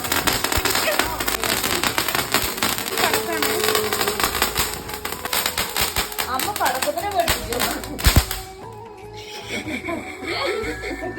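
Ittapotti firecrackers burst at a Vishu celebration in a rapid, dense chain of sharp cracks. The loud crackling runs nonstop for about eight seconds before it cuts off, and voices can be heard around it.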